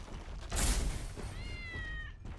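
A cat meows once in the horror video game The Bridge Curse 2: The Extrication. The meow is a clear, drawn-out, falling cry that follows a short burst of noise, over a quiet background.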